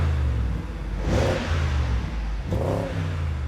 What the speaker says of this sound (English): You start the car, you get the engine up to working temperature, and then you rev it and look for blue smoke.